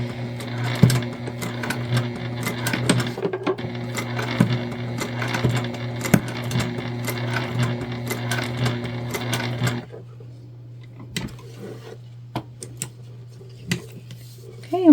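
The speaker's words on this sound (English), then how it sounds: "I'm just going to stitch these together" Sewing machine stitching strap pieces for a Zora shoulder bag, a fast rhythmic mechanical whir with steady ticking for about ten seconds, then stopping, followed by faint handling clicks and a brief voice at the end.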